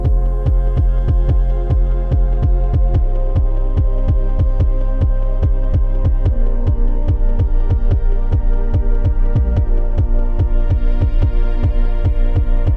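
A Jersey club beat built in FL Studio, its 808 bass following the kick pattern on root notes, pounds out a loud, steady stream of booming low hits with quick bounce patterns and tonal layers above, with no voices.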